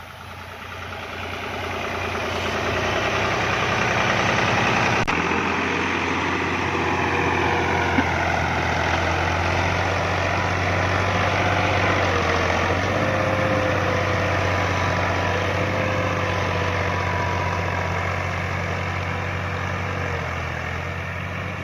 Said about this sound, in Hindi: इस वक्त जो है ना 2 ट्रैक्टर चल रहे हैं, ये आप लोग देख सकते हैं।